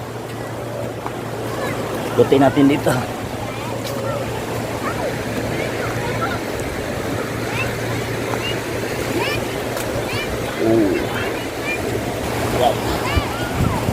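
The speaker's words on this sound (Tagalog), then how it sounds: "Isang malaking alon." Big sea waves wash onto a beach at Ivisan, Roxas City, Capiz, with a boat nearby: a steady, close roar of surf over a low engine hum, while people talk throughout.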